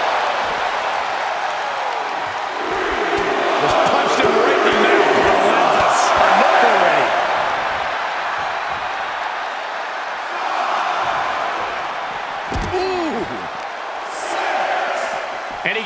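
A roaring arena crowd in the WWE 2K24 wrestling game cheers in broad swelling waves, loudest in the middle and easing later, while commentary voices talk over the crowd throughout.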